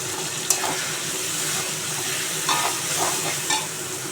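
Ground spice paste sizzles in a pan with fried onions and tomato, a steady crackling hiss with a few sharper stirring scrapes breaking through at intervals.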